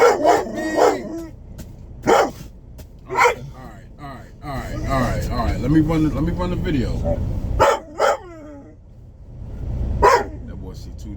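Two dogs bark in sharp repeated bursts, close and loud, with yips and whimpering between, while someone talks over parts of it.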